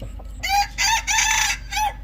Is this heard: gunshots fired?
no